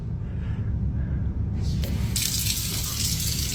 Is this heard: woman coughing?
no